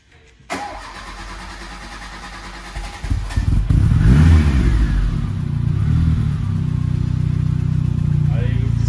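A car engine cranks and catches, idles roughly, then revs loudly and settles into a deep, sustained rumble close by.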